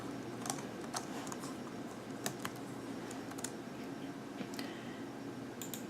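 Keys clatter on a Chromebook keyboard in a quiet room, with soft irregular taps and a few sharper clicks scattered across the stretch, close and alone without any voice.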